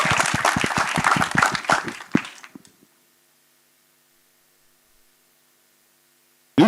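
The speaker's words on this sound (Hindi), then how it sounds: "उमेश बंसल जी के लिए जोरदार तालियां" Audience applause at a film trailer launch, loud crowded clapping for about two seconds that tapers off and stops, followed by near silence.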